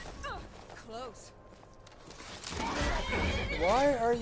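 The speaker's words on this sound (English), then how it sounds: "Why are you beating up the horse?" A horse in the Skyrim video game whinnies repeatedly, several rising-and-falling neighs with hoof clip-clops, the last neigh loudest and close, while a voice talks alongside.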